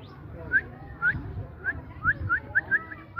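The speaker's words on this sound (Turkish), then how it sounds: "Kim ötüyor ya cik cik diye?" A small bird chirps in a quick series of short, bright calls, about ten spaced notes, close and fairly clear over a low outdoor rumble in a wildlife park at Maşukiye.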